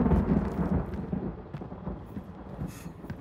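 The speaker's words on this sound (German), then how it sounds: "Gewitter." Rolling thunder from a thunderstorm in the video game Hunt: Showdown, a deep continuous rumble with rain texture, heavy at first and easing slightly, with no voices over it.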